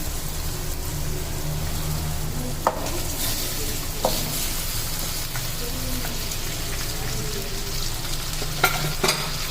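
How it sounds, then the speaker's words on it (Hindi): Beef trotters (paya) frying in oil with masala, a steady broad sizzle throughout with a few sharp stirring clicks, close and continuous, no voices. "ये देखिए मसाले के साथ मैंने पाए डाल के भी भून लिया है थोड़ा सा।"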